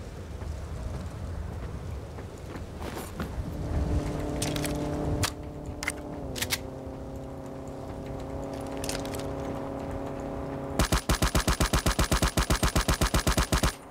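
Distant gunfire from long-range shots in Ring of Elysium, with sharp scattered cracks over game ambience and a steady hum, then a fast rapid-fire burst of repeated shots near the end.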